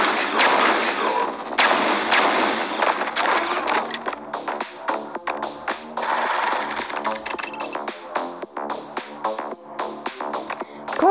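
Rapid bursts of gunfire in the mobile shooting game Johnny Trigger, with dense repeated shots and short gaps, loud and close, joined by other game effects.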